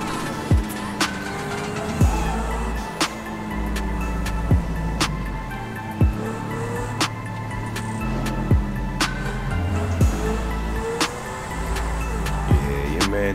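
A 2019 McLaren supercar in GTA 5 drives steadily with a sustained engine drone, punctuated by regular sharp clicks or bumps roughly every second, with no talking.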